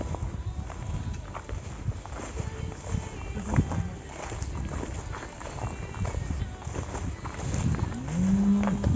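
A cow lying down with the herd in a village field lows a few times amid a busy farmyard background of shuffling, hoof sounds and low rumble, with one longer moo near the end.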